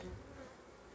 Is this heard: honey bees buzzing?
yes